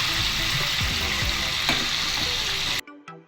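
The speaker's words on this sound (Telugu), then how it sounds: "ఇప్పుడు ఆనియన్స్ ఇలాగా కళాయిలోకి వేసుకుని వేగించిన తర్వాత" Onions, green chillies and curry leaves frying in oil in a kadai, a close, loud steady sizzle with occasional stirring scrapes that cuts off abruptly near the end, leaving faint clinks.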